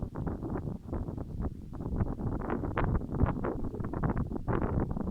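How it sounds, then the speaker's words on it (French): Outdoor wind buffets the microphone in uneven low rumbling gusts that rise and fall continuously, with no voices present. "je m'amuse de sentir ce vent, cette agitation extérieure"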